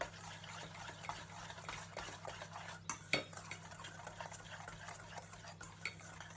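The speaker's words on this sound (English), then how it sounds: "And whisk these together." A whisk mixes dry ingredients for a chocolate pudding cake in a bowl, making quiet, irregular metallic clinks and scrapes against the sides, with a couple of sharper taps and no speech.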